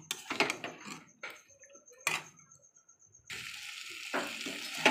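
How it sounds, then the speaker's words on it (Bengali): Green chicken curry spiced with garam masala fries in a pan while it is stirred. Scattered scrapes and clatter give way to a steady, close sizzle in the last seconds, and no one speaks. "এবার আর একটু নাড়াচাড়া করে জল দিয়ে দেবো।"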